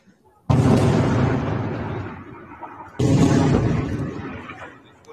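Rockets fired from Lebanon strike northern Israel in news footage: two heavy explosions about two and a half seconds apart, each a sudden loud boom trailing off into a long rumbling decay.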